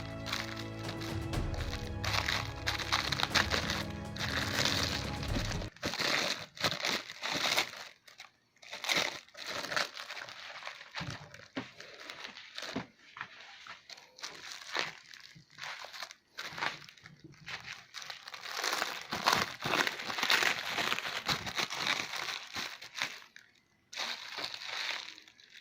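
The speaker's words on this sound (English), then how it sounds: "And now let's remove the extra plastic covering." Plastic covering is pulled off and crumpled close by, in loud irregular bursts of crinkling and crackling separated by brief quiet gaps.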